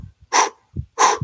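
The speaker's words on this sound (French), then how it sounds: "une respiration du feu qu'on appelle en boulet de canon, c'est-à-dire une respiration du feu par la bouche en haut" Forceful mouth breaths in a cannonball fire-breathing exercise from Kundalini yoga: two strong, breathy exhalations about half a second each, close and loud, with softer low inhales between them.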